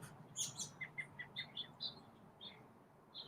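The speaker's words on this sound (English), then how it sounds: "Birds, birds, birds." Morning birds chirp outdoors in a quick series of short, high tweets, moderately close and fairly faint against quiet background noise.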